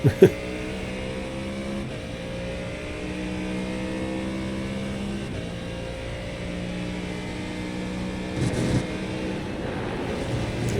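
Onboard a race car at Spa accelerating out of a hairpin onto the back straight, with a loud, close engine drone whose harmonics rise steadily and a brief burst of extra noise near the end.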